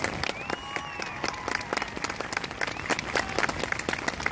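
Outdoor crowd applauding children wading at a lake opening, sustained clapping from many hands with a few whistles mixed in, moderately close and steady throughout.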